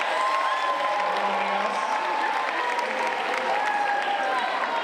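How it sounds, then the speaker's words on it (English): Parents seated in the front row at a middle school recognition assembly get a steady, full wash of audience applause that stays loud and even throughout, with a faint tone running underneath. "Let's give them a big round of applause."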